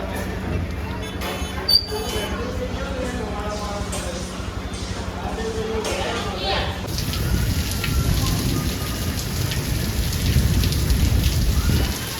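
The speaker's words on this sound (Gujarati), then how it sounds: "એમાં તો વરસાદ ચાલુ થઈ ગયો" Heavy rain pours steadily outdoors near a temple in Dwarka, a dense continuous hiss growing louder toward the end, with faint voices of a family group underneath.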